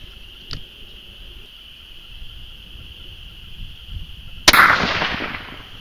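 .243 rifle fired over a chronograph outdoors, one sharp loud crack near the end with a brief decaying echo, after a quiet stretch filled with a steady insect-like drone.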